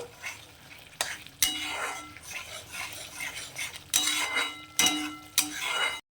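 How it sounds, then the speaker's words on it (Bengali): Potatoes and spices stir-fried in a pan for a vegetarian soybean mutha, with a utensil scraping and clinking against the metal over a steady sizzle and several sharper knocks, close and moderately loud. "এবারে আলুটার সঙ্গে মশলাটাকে খুব ভালো করে কষিয়ে নেব।"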